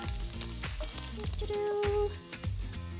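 Tofu fries in a pan of hot oil for a Chinese vegetarian dish, giving a continuous close sizzle with crackles and small pops, with no voices.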